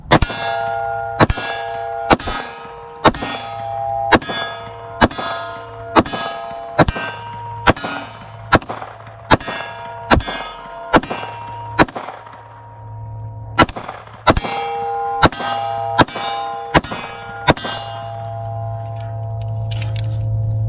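An SCT 43 pistol fitted with an AimSurplus slide fires about twenty rounds at a steady, even pace, each sharp report trailed by a bright metallic ringing, with no talking.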